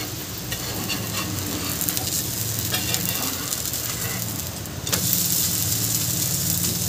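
Raw papaya dhirde sizzles on a hot pan with a steady crackling hiss, then a scrape and clatter as it is flipped, after which the frying grows slightly louder; nearby, with no talk.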